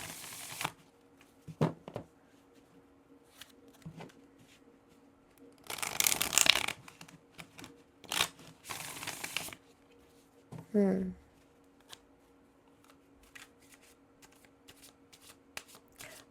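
Tarot cards shuffled by hand in a few separate bursts, the loudest a dense riffle about six seconds in, with quieter scattered card slides and taps in between against a faint quiet background.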